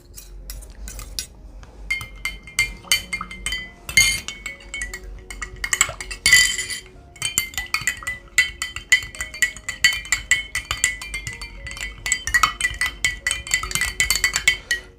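Lotion stirred inside a glass container, rapid metallic clinks and scraping taps of a utensil against glass in an uneven rhythm, close and clear with no talking.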